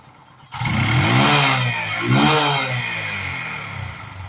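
Bajaj CT125 motorcycle engine with a Rouser 13LS CDI and no rev limiter, revving hard twice in quick succession, loud and close, then settling into a high steady idle with no talk.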